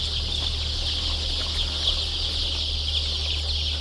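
Chickens in a poultry house cluck softly and intermittently over a steady, constant background hum, with no speech.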